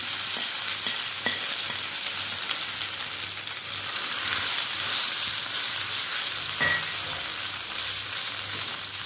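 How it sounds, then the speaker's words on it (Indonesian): Balinese base genep spice paste fries in hot oil, a steady dense sizzle throughout with occasional stirring scrapes and pops, fairly close and with no voices. "sekarang kita akan menggoreng bumbu genepnya"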